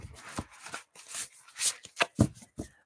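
Oracle cards from a Shaman's Dream deck being shuffled by hand, giving a series of short papery riffles and slaps in uneven bursts, close and fairly quiet, with no talking over them.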